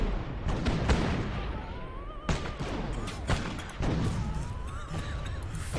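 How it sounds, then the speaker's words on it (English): Cannons fire in the video game Hyrule Conquest, several sharp booming shots spaced irregularly over battle noise, moderately loud. "I love these cannons."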